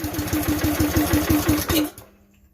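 A small CH Extreme air compressor engine idles close by with a rapid, even chugging rhythm, then cuts out abruptly, leaving near silence.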